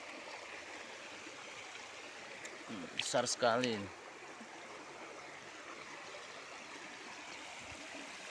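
A small river stream flows over rocks with a steady, even rushing hiss throughout, close and constant, while a voice briefly speaks midway.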